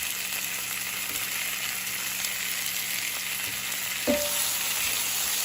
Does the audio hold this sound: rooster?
no